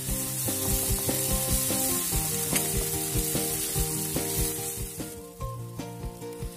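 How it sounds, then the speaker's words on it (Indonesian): Chili paste fries in a pan after shrimp paste for banana blossom vegetable soup, a continuous close sizzle broken by rhythmic scraping and tapping of a spatula, with no voices. "Setelah harum, masukkan cabai halus."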